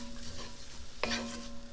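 Vegetables sizzle gently in a cast iron pan with a steady hum underneath; a brief stirring scrape cuts in about halfway through.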